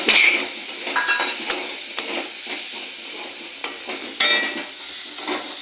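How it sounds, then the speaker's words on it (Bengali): Ground peanuts are stirred into red amaranth greens in a pan: repeated spatula scrapes and knocks over a soft sizzle, close and fairly loud, with no one speaking. "এই বাদামটা দিয়ে এখন নেড়ে যাওয়ার পালা"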